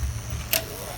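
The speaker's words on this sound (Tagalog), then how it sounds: "Another beep." A secured entrance gate gives one short, thin electronic beep midway, set against a faint steady hum.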